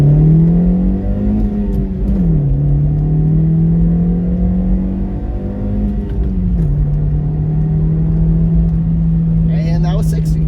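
Audi A7 accelerating to 60 mph, a steady low engine drone that rises, dips at two gear shifts and climbs again, loud and close throughout with a voice briefly heard near the end.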